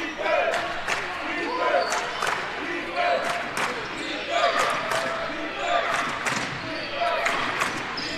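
A college men's basketball game between Alameda and Columbia College at a CCCAA regional, the gym crowd cheering loudly and steadily throughout, with sharp ball bounces and sneaker squeaks on the court and a commentator talking over it.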